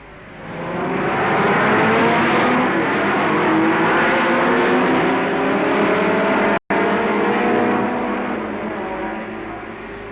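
Period race cars, including E-Type Jaguars and Ferrari Berlinettas, roar on the grid of a 1961 Grand Touring Car event, with loud, sustained engine noise that swells in and holds with a brief dropout partway through.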